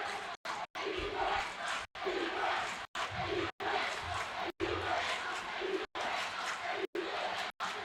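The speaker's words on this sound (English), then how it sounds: "You get the Bremerton crowd yelling defense and South Kitsap yelling offense" Rival high school basketball crowds, Bremerton and South Kitsap, chanting defense and offense back and forth in a gym, loud rhythmic group yells broken by short pauses.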